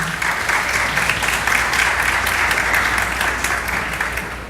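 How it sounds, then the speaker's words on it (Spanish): Steady, dense applause from a conference audience at an educational innovation event, continuous and full for the whole stretch with no voices on top. "Para ellos les pido un fuerte aplauso."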